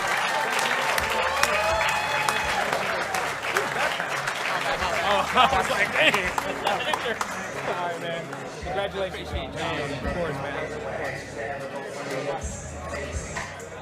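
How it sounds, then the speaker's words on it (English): Applause for scholarship award winners at a leadership conference closing fills the room, clapping and crowd noise mixed with a speaker talking over it and scattered cheers. "Let's give a round of applause for our scholarship award winners."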